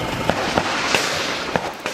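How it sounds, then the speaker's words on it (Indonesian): Gunfire in an armed firefight between security forces and an armed group in Yahukimo, Papua, with several sharp distant cracks spaced irregularly through a noisy open-air background. "terdengar suara tembakan berkali-kali"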